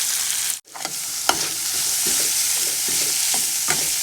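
Grated coconut frying in a hot pan for a traditional Kerala dish, a steady sizzle broken by repeated scraping strokes of a spoon stirring it, close and with no talking.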